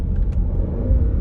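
The 2017 Jeep SRT's engine rumbles low and steady during an upshift, a brief close drone with no voices.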